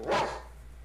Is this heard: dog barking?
yes